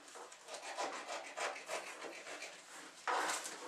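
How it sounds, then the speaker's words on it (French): A knife cuts away the excess puff pastry hanging over the rim of a tart mould while a rustic country tart is being prepared. It gives close, continuous scraping and rubbing strokes, and a louder, brighter scrape comes near the end. "je prends mon couteau et je découpe ce qui dépasse"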